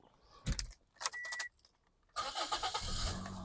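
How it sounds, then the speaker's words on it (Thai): Keys jingle and click nearby, then the engine of a 2010 Toyota Altis 1.8E cranks and catches on the first try, settling into a steady idle. "เดี๋ยวเรามาดูในส่วนของเครื่องแล้วฟังเสียงเครื่องยนต์กันบ้างนะครับ"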